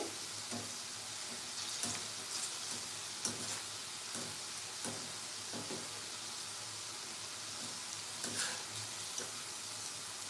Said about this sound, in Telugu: కొంచెం ఫ్రై అవ్వాలి